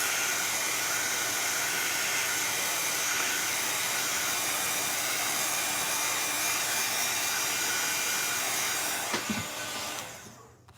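A hair dryer blows steadily and loudly to dry paint on a Christmas candy cane stencil project, a continuous airy roar that cuts off near the end.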